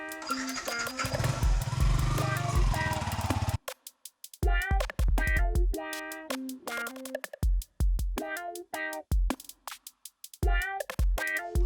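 An expensive motorbike's engine roars loudly for the first few seconds, then gives way to choppy bursts of voices and other sounds.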